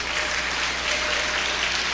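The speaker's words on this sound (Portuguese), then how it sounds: "Será que você pode aplaudir o Senhor nessa noite?" A church congregation applauds during an evening worship service, a dense, steady wash of many hands clapping throughout with no pause.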